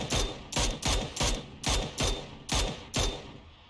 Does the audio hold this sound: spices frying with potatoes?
no